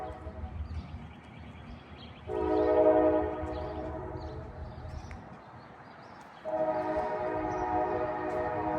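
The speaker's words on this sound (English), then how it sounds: "Sorry about the train." A train rumbles past steadily, sounding its horn in two long, loud blasts over the continuous rolling rail noise.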